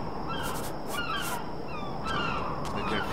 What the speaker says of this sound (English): Dude, the seagulls never shut up.